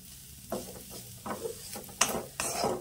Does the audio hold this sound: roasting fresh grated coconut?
yes